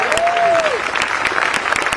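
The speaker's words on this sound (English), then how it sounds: "Let's give ourselves a round of applause." Crowd at an outdoor labor rally in Boston applauding, loud close claps with scattered cheers and a brief whistle-like tone at the start, the clapping thinning toward the end.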